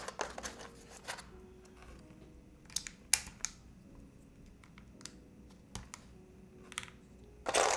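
Keys tapped on a newly built custom keyboard, scattered crisp clicks and short bursts of typing spread unevenly across several seconds in a quiet room, close and distinct.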